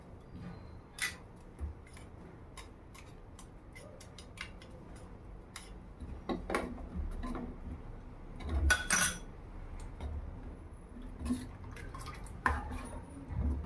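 A spoon stirs and scrapes vermicelli dessert in a pot, giving scattered light clinks and taps with soft wet sloshing, irregular and fairly close, with no talking.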